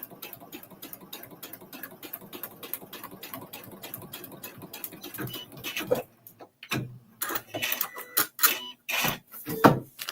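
Domestic sewing machine stitching foundation paper piecing, a fast rapid needle patter running steadily for several seconds, then breaking into short separate bursts as the pedal is tapped.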